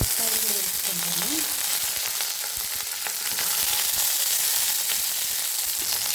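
Garlic and dals sizzle steadily in a hot pan while an egg curry is cooked, a close, continuous frying hiss with occasional stirring.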